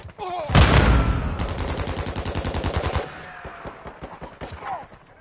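Shotgun blasts in an online shooter game, a loud burst opening into a dense, rapid volley of shots lasting a few seconds, then fading to scattered quieter sounds with some talk.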